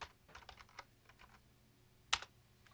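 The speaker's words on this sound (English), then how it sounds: "you should be able to just type in btt-cb1.local" Faint, quiet clicks of typing on a computer keyboard, a short run of scattered keystrokes ending with one sharper key press, with no talk.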